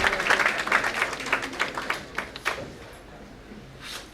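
An audience of students at an IIBM Patna event applauds to welcome the head of the marketing department, a dense round of clapping that starts strong and steadily fades away over a few seconds.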